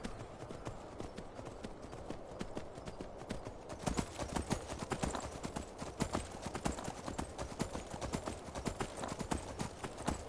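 Horse hooves clip-clopping in the Skyrim video game, a steady rhythmic trot of sharp hoof strikes that grows louder and busier partway through, close, with occasional talk over it.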